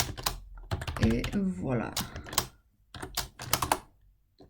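Clacking keystrokes on a computer keyboard while entering Python code in interactive mode, irregular bursts of close typing with a short spoken phrase mixed in.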